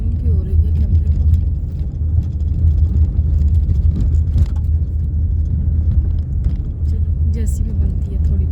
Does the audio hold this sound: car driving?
yes